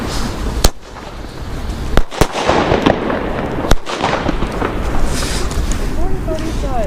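Flashbang firecrackers go off outdoors in a series of sharp, loud bangs, with wind noise and shouting voices between the blasts.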